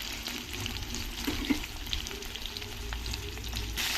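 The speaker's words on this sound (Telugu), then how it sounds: "పచ్చిమిర్చి ముక్కల్ని కొద్దిగా వేయించుకొని కొద్దిగా లైట్గా వేగిపోయాయండి" Green chilli pieces frying lightly in oil before brinjal goes in, a soft, steady sizzle close by with a few light clicks of a spoon stirring.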